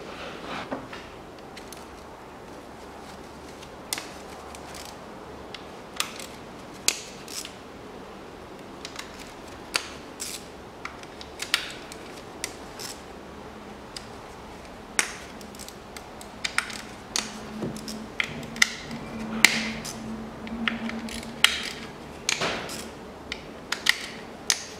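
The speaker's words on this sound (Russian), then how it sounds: "откручиваю крышки с головки, их две, здесь две штуки" Scattered sharp clicks and ratchet-like ticks come from bolts being undone on the cylinder head cover of a Peugeot 407 1.8 engine. The head is being removed after a timing belt snapped. The sounds are quiet and close, with irregular pauses between them.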